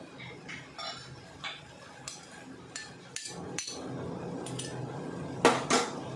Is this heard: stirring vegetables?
yes